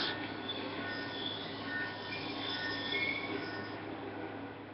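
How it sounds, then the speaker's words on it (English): A train rumbles past in the Call of Duty: Black Ops 2 video game, a steady dense roar with metallic wheel squeal running continuously at moderate loudness. "Ain't getting anything else with that train in the way."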